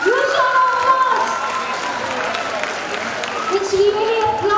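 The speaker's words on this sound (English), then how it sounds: "You show him applause." Applause from the crowd for a student honoured at a school prize event, a broad wash of clapping running under a loud announcer's voice over the PA.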